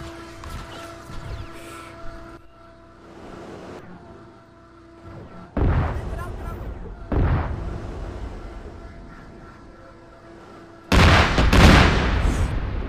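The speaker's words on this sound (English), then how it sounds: "and we are getting shot, by the way." Arma 3 combat with an MI-24D helicopter: gunfire and heavy booming impacts in loud bursts, separated by quieter stretches of a droning engine hum, with no talk.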